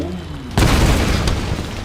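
A sudden loud explosion booms in the Tomb Raider video game, followed by a rumbling, crackling roar that lingers to the end of the short stretch.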